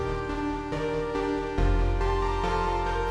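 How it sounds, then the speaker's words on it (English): A layered synth preset with square-wave bass and treble voices plays a repeating pattern, thick sustained tones shifting chord every half second or so, with a deeper bass entry midway, steady and loud with no voices. "I use this bass square treble layered preset and have the same pattern again"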